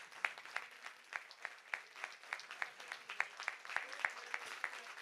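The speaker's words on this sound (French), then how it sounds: "je pense qu'on peut vraiment les applaudir pour les remercier" Audience applauding the organisers at the opening ceremony of a Relay for Life charity event, steady rhythmic clapping heard faintly and at a distance, sustained throughout with a slight rise in the middle.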